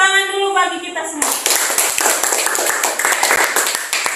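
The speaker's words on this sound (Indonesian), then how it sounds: "tepuk tangan dulu bagi kita semua" A classroom group claps during a biology lesson on meristem and permanent tissues; a teacher's voice speaks briefly, then a burst of lively group clapping follows for about three seconds.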